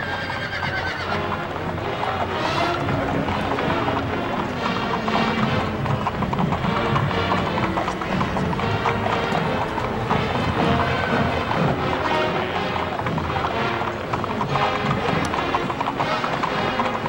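Horse hooves clip-clop steadily at the Rose Parade in Pasadena, with horses whinnying now and then amid a dense, continuous crowd and outdoor wash; the hoofbeats sit at a moderate distance under the ambient noise.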